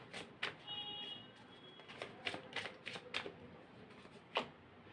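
Tarot cards shuffled and drawn during a reading: a series of crisp riffling and slapping card sounds in quick bursts, close and fairly quiet, with no talking.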